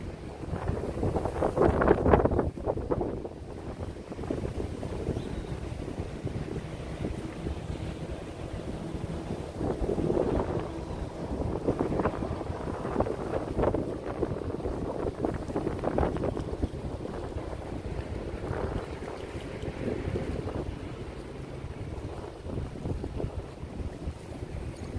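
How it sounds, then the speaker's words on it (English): Strong wind gusts roar across a stormy lake, buffeting the microphone in a continuous low rumble that swells loudly near the start and keeps churning on with no voices. "Stormy lake today. Very windy."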